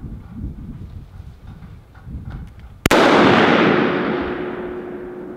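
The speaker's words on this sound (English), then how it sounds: "That's a cannon right there, boy." A single loud cannon blast in a video game booms suddenly after quieter rustling, its broad roar echoing and slowly fading over a couple of seconds.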